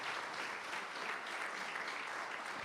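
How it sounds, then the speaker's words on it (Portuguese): A church congregation claps together during a Portuguese-language worship service, a soft, steady wash of many hands applauding at some distance for a few seconds. "Você pode dar uma salva de palmas ao Senhor"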